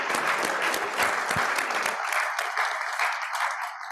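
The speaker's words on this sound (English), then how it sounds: "Give them a round of applause." A room of Kiwanis club members claps in a steady round of applause at a meeting, fairly close and even throughout, thinning a little after the opening seconds.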